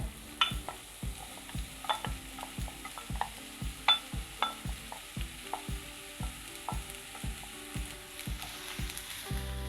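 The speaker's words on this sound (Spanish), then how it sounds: "ya está caliente nuestro sartén con el poquito de aceite que lleva. Vamos a poner nuestra cebolla." Onion sautéing in a little hot oil in a frying pan for a bean soup with chorizo: a soft, steady sizzle under a regular series of sharp clicks and scrapes from stirring, with no talking.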